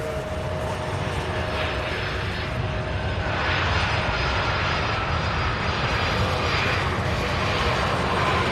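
A large jet cargo airliner, a Boeing 767 or 747-8F, approaches to land at SDF airport in Louisville, a steady loud engine roar with a faint whine that holds throughout, no voices.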